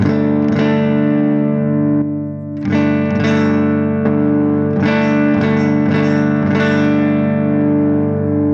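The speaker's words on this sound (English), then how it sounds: "There's something about the Dynacomp that adds just a tad of grit." Electric guitar through a Dynacomp compressor pedal on a Line 6 POD Go plays a sequence of plucked, sustained chords and notes with a slightly gritty, squashed compressed tone, loud and close, with a brief pause midway.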